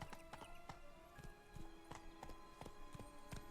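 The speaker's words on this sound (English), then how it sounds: "Whoa there, Roach." Horse hooves clip-clop at a steady walking rhythm in The Witcher 3 video game, close and clear over soft ambient game sound, with no talking.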